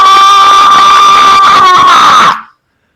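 A man lets out one sustained, very loud, strained scream held for over two seconds before cutting off abruptly into silence.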